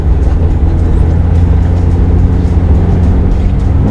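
A Ferrari F430 with a six-speed manual gearbox revs above 3000 rpm on a slippery road, a steady, loud, low engine drone heard from inside the car without pause and with nobody talking.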